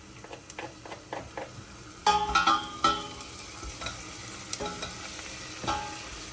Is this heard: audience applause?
no